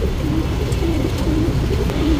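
Soft, low pigeon coos repeat steadily, several birds cooing close by at a pigeon loft in Mysore over a constant murmur, with no talking.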